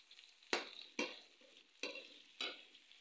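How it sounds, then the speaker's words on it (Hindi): Chopped onions frying and being stirred in a pan, heard as four sharp scraping stirs over a soft continuous sizzle, close and fairly quiet with no talking. "ये हमने प्याज काटे हैं और इसको फ्राई कर रही है"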